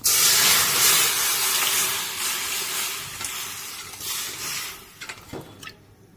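Boiled potato, tomato and green chilli tipped into hot oil tempered with five-spice, giving a loud, dense sizzle that slowly settles, with a few clinks and stirring scrapes near the end.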